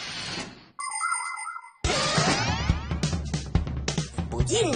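A short electronic alarm clock in an animated children's cartoon rings with bright tones, then gives way to talking and clattering, with more voices and noises after the ringing stops.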